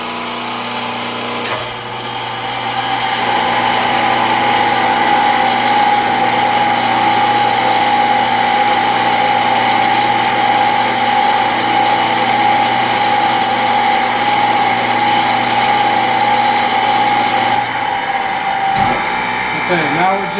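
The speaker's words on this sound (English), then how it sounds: "I'm going to hold down the clutch button to engage this clutch. Now the Arduino should kick it out when it sees enough RPM." A pony motor with an electric clutch spins up a phase converter, giving a loud steady whine with a strong hum that runs nearly the whole clip and then cuts out near the end.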